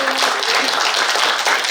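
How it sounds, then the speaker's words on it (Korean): A crowd at a Korean unification Saemaul movement gathering claps loudly and steadily, a dense wash of applause with no talking. "우리 그동안 모든 걸 다 기획하고 준비하신 안성일 처장한테 더 한번 크게 박수 좀 부탁드리겠습니다."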